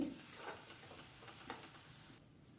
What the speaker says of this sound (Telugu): ఆయిల్లోని వేసి బాగా వేపుకోవాలి